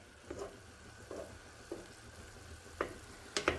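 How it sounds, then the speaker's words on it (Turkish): Quiet sizzling from a pan with several sharp scraping stirs at irregular intervals, close by. "Etimiz de pişiyor."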